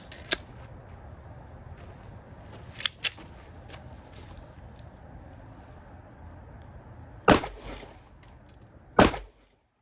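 A gun loaded with factory-made ammunition fires several sharp, loud reports spaced a few seconds apart outdoors, each crack standing out clearly against quiet background noise.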